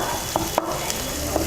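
Grated green chilies frying in oil, a steady close sizzle broken by a few sharp spatula taps and scrapes, with no talking.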